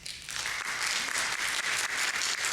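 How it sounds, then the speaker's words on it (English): Audience applause at a college campus lecture, a dense steady wash of clapping that starts after a brief quiet moment and holds evenly, moderately distant and without voices. "Oh, wow, round of applause"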